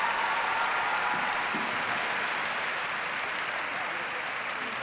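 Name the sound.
arena crowd applauding after figure skating program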